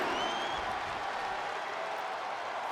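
A crowd in the wrestling video game WWE 2K24 cheers and applauds in a steady, loud, dense roar that holds at the same level throughout.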